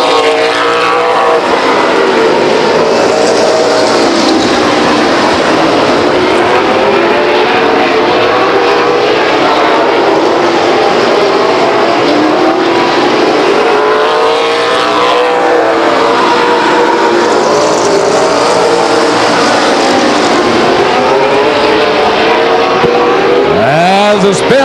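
Race cars roaring around the Stockton 99 Speedway oval, engines loud and continuous with rising and falling pitch as cars pass, while an announcer talks over the racing.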